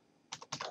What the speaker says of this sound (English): I have really loud typing